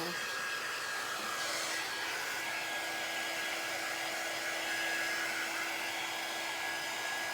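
A hair dryer blows with a steady, loud, breathy whoosh and a faint motor whine, running continuously without pause.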